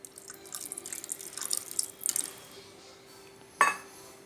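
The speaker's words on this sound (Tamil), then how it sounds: "இப்போ நம்ம இதில் வந்து லைட்டாக புளி ஊற்றிக்கலாம்" Tamarind water trickles and drips into a pot of banana stem and moong dal for a couple of seconds, quiet and close, followed by a brief clink of metal or glass.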